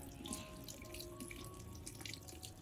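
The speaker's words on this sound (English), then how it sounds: "rinse the plant's base thoroughly under running water" Tap water runs steadily into a sink while the base of an orchid's roots is rinsed clean of old potting medium, a close continuous splashing flow with light, irregular droplet patter.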